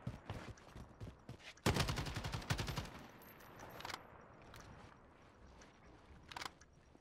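Shotgun in a Search and Destroy video game match: a quick cluster of sharp, loud blasts lasting just over a second, then quieter scattered clicks and distant shots against faint background noise.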